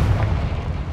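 A Confringo blasting spell detonates in Hogwarts Legacy, a single deep, loud boom with a rumbling low-end tail that fades over a second.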